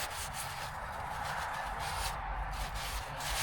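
A cloth rubs and wipes spilled engine oil off parts of a 5.7L Jeep Commander during an oil change, a steady close scrubbing sound in repeated strokes with no talking.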